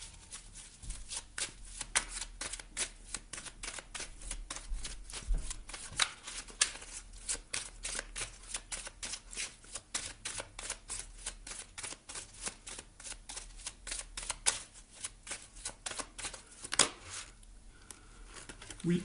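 Tarot cards shuffled and drawn by hand, a steady run of crisp riffling flicks and soft card slaps lasting throughout, close and moderately loud with no talking over it.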